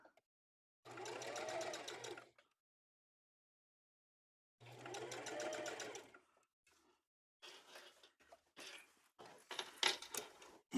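A sewing machine stitches a duffle bag seam in two steady whirring runs of a couple of seconds each, close and clear, separated by silence, followed by scattered handling clatter and rustling of fabric and clips.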